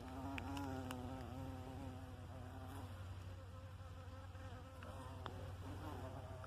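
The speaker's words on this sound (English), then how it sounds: "Huge bumblebees all over them." Bumblebees and honeybees buzz around gooseberry flowers in a garden, a continuous close droning with shifting pitch as insects move past, with no talking.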